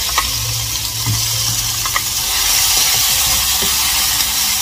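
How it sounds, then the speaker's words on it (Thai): A low, constant hiss of Thai curry paste frying in oil over medium heat in a wok, with faint scraping of a spatula now and then; no voices. "เราจะผัดเครื่องแกงกับน้ำมันก่อนนะคะใช้ไฟกลางค่ะ"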